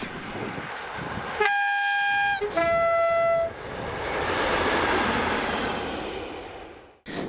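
Locomotive 37116, running through Scotland, sounds two loud horn blasts, the second a long steady tone, then its rumbling roar builds and fades as it passes close by.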